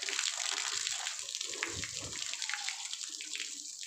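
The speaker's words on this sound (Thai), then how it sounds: "เปิด โอ้น้ำพุ่งไปแล้ว" Water gushes hard from a bathtub mixer tap being tested, a steady, loud, close-up splashing rush that keeps going with no pause and no talk over it.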